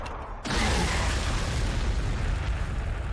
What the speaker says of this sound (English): I could throw some frag right in there.